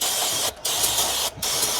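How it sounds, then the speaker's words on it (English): Brake cleaner sprays loudly from an aerosol can onto the rear brake of a Ford Flex, a close, harsh continuous hiss in three bursts split by two short pauses. "spray this down with some brake clean"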